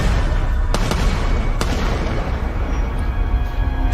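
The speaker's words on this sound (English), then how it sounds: "According to Victoria, she hears gunshots." Gunshots ring out near parked cars: about three sharp, loud cracks in the first two seconds, standing out over a steady, noisy background with no talk.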